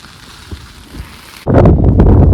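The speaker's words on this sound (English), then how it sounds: "It's been raining, wind blowing, foggy." Rain and wind battering a tent at a camp on the Alaska Peninsula, quiet at first, then a sudden loud, dense roar of rain and gusts filling the rest of the clip.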